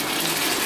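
Tap water gushes steadily into a tub being filled for an ice bath, a short, even splashing rush heard close and alone.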